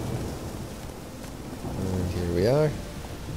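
Steady rain hissing in The Witcher 3 with a low thunder rumble beneath, while someone speaks over it and a brief rising tonal sound swells near the end.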